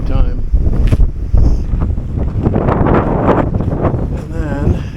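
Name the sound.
strong wind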